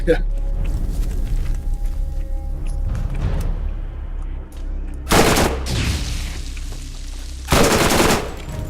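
SMG fire in Borderlands comes as two sharp, loud bursts of rapid shots, separated by quieter mechanical clicks and low rumble, with no talking.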